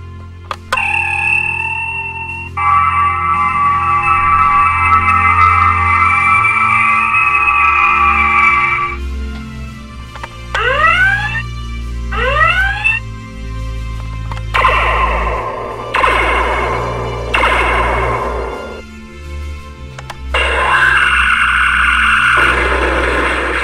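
Gold toy USS Enterprise starship model with built-in weapon sound effects: loud electronic tones, a sustained warbling blast, rapid descending zaps in pairs, then bursts of noisy phaser-like fire, played alone without talk.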